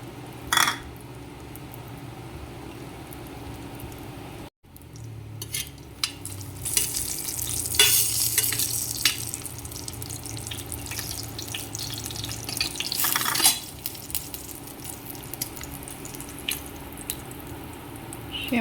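Cooked meat frying in a small amount of cooking oil in a pan for ginisang patola gives a soft crackling sizzle with stirring scrapes and occasional louder bursts. A short silent gap comes early, and no one speaks.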